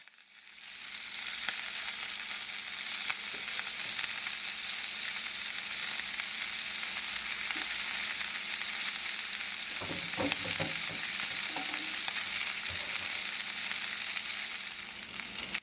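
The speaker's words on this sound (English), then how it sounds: "I'm going to put my oil and then I'm going to sear my meat 3 minutes on each side" Pork chops searing in oil in an oven-safe skillet give a loud, steady sizzle and crackle that lasts throughout, with a few brief scraping or stirring sounds near the end.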